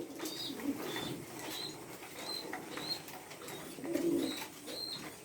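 Pigeons coo steadily in a loft while wings flap now and then, and a low murmur of coos swells near the end, moderately loud with no talking.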